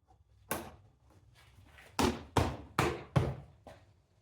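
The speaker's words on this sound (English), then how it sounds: "bump the panel to secure the retaining pins" A plastic dirt bike side panel is bumped into place over its retaining pins, giving five dull, close thumps, one early and then four in quick succession.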